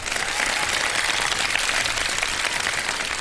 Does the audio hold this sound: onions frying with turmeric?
no